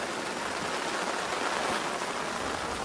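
Steady rain on a rainy fishing day, an even close hiss of drops pattering on surfaces that holds at the same level throughout, with no voices.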